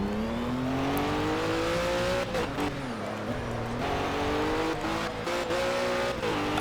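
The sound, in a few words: race car engine in Project Cars (video game)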